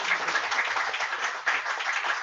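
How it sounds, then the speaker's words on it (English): Steady applause from a community assembly crowd, a dense wash of clapping that holds evenly throughout with no voices breaking through. "let's give everybody a round of applause"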